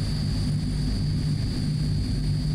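Simulated propeller engines of a Transall C-160 military transport in Microsoft Flight Simulator 2020, a steady, loud low drone with a constant high whine, heard alone without talk.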